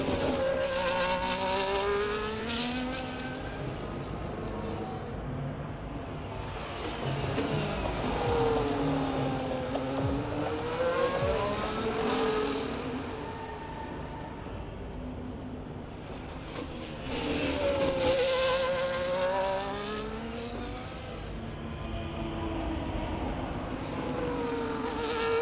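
Formula 1 race car engines from the EA Sports F1 game at the Baku street circuit in Azerbaijan, sustained high-pitched engine whine with repeated rising and falling pitch sweeps as cars accelerate and pass, loud throughout with no talk.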